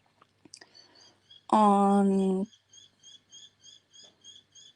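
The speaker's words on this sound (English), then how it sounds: "these birds, good morning. They're loud." Loud birds call in the morning: a steady string of short, sharp chirps repeats in an even rhythm, preceded by one loud drawn-out harmonic call lasting about a second.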